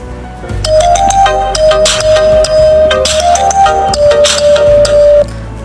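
A bright melodic phone ringtone from a ringtone app plays loud and close, a chiming electronic tune with a steady beat that runs for several seconds before cutting off.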